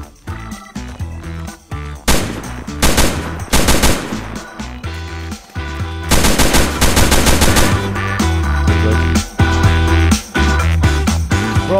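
Rapid automatic gunfire from Roblox Fallen V5, a survival shooter, with loud sustained bursts crackling over a droning music bed and repeated volleys across the clip.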